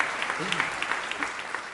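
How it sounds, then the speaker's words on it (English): Conference audience gives a round of applause, a steady wash of clapping with distinct individual claps, while a voice briefly speaks over it. "Can we give him a round of applause?"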